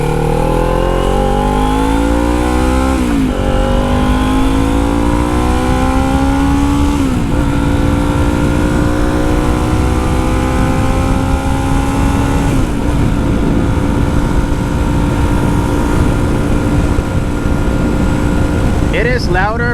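A Kawasaki Z400 revs through a cheap slip-on exhaust with the baffle removed, a loud raspy near-straight-pipe roar that climbs and drops repeatedly in several rev sweeps, close by with steady engine drone throughout.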